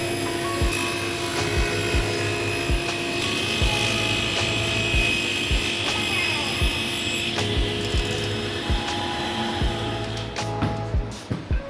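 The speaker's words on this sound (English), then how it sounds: "I'll clean up the last edge over at the table saw" A table saw trims the edge of a planed and jointed board, a loud steady whine and rumble with regular rhythmic ticking from the feed, winding down near the end, with no talking.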